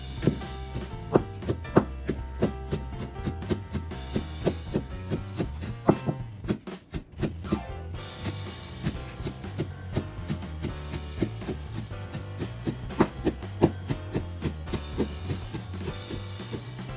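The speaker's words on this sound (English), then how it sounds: "I'm gonna cut about 3 to 4 sprigs of green onions into very small, fine pieces." A knife chops green onions into fine pieces on a cutting board, with fast, steady rhythmic taps close by and a short pause partway through.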